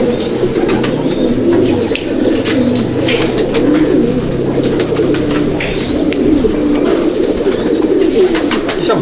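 Champion Andhra breeder pigeons in a loft, several birds cooing in overlapping low throaty calls, near and loud, continuous with no talk.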